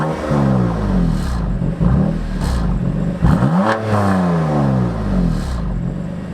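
A BMW M2 Competition in sport mode, exhaust valves open, gives a loud, close engine rev. The steady throaty drone swells and climbs in pitch around the middle, then settles back down.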